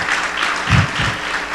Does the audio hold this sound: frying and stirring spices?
no